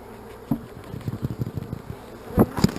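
Honey bees buzz near an open hive box fitted with new wax during an artificial swarm, a low steady drone broken by scattered close fly-by buzzes and a couple of louder bursts.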